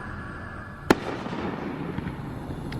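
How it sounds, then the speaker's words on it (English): A neighbor's firework bursts once with a sharp, distant bang, followed by a faint crackling tail and a softer pop, heard from inside a backyard shed under steady background hiss. "Yep, that's the neighbors shooting some fireworks off."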